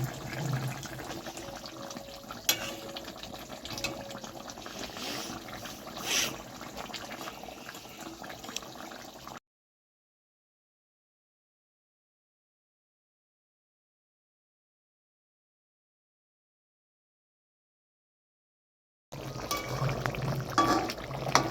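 Fish pieces for a Bengali fish doi kalia go one after another into a pot of boiling water with boiled potatoes, with steady bubbling and watery sloshing for several seconds, then a gap of silence before the simmering resumes.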